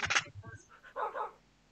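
Dogs bark in a video game, a rapid run of short, fairly close yaps followed by a couple of softer whining calls, at low overall volume.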